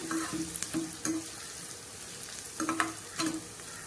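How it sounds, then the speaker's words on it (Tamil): Soft sizzling of onions sautéing in a pan with intermittent stirring scrapes and clicks, close and quiet, no talking. "இப்போ இந்த வெங்காயம் நல்லா வதங்கிக்கணும்"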